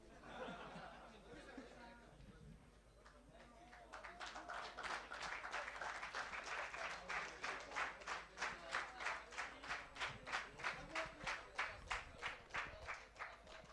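Audience at an award gala bursting into applause that swells and then settles into loud, rhythmic unison clapping, with chatter and voices underneath at first.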